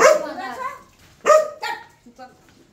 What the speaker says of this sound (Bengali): মাথার উপরে কুকুর ঘেউ ঘেউ অনেক দূরে করছে